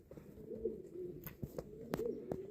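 Pigeons coo softly at a home loft, a low, rolling murmur with a few sharper flutters and clicks, quiet and close.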